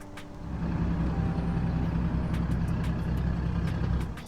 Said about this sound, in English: the throwout bearing is super loud when the AC's on randomly